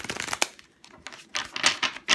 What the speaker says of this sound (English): I'm just going to shuffle these cards through.